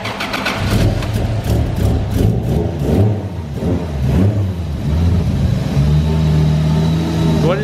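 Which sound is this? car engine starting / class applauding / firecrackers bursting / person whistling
car engine starting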